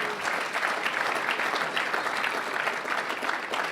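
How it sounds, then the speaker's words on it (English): Applause rings out from the audience at the AAU James E. Sullivan Award ceremony, a sustained, even wash of many hands clapping heard up close for the full length. "So round of applause for Dad right here one more time."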